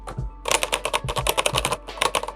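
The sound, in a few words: typing on Keychron K8 wireless mechanical keyboard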